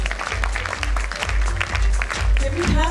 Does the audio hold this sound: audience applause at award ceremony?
yes